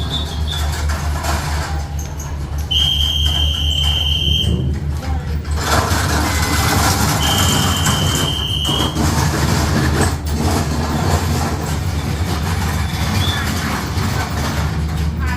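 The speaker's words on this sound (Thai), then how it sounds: "รถกำลังเข้ามานะนวลนะ" Heavy low rumble of a train rolling into a station, with two long, high-pitched squeals of brakes or a whistle over continuous engine noise and faint voices.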